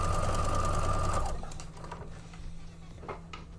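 A sewing machine stitching fabric seams on bias-cut pieces, running in a loud, close, rapid mechanical whir for just over a second before stopping, followed by quieter handling noises.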